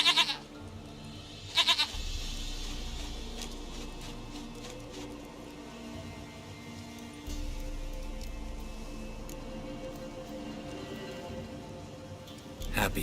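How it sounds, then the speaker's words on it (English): A goat bleats in The Witcher 3, in Velen, with short bright cries near the start, at about two seconds and at the end, over a steady low game ambience with faint rain. "Goat of mine, dearest,"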